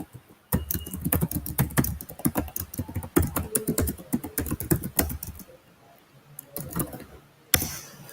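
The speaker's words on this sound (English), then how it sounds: "I'll just create another key" Rapid, dense keyboard typing on a computer keyboard, close and fairly loud, running in bursts with brief pauses and a final few keystrokes after a short gap.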